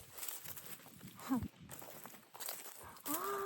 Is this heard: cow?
yes